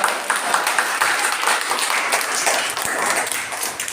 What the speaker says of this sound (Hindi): चलो तालियां बजा दो अपने लिए।